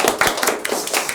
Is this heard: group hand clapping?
yes